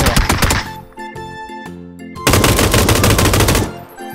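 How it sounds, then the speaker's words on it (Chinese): Rapid automatic gunfire in the battle royale game PUBG, aimed at a gas can thrown into the air: loud, dense bursts of shots, a short pause with ringing tones, then a second sustained burst before fading. "在空中打中很多枪，才把汽油桶打爆"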